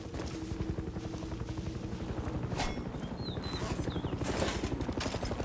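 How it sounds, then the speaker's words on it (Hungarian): A helicopter in the video game Far Cry 6 gives a steady rapid rotor chop that stays loud throughout, with faint game sounds layered over it. "Te helikopter, te engem akarsz?"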